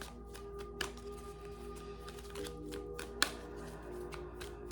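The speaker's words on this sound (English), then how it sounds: "Shuffling for Pisces." Cards are shuffled for a tarot or oracle reading, with soft riffling and flicking bursts and a few sharper snaps, close up and fairly quiet, with no talk over it.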